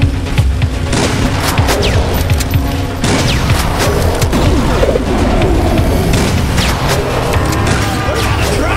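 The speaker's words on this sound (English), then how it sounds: "Jeff, bring out the vortex cannon, will ya?" A vortex cannon fires in the Huntdown video game amid dense, loud booms, crashes and rapid gunfire that continue without pause through the whole stretch.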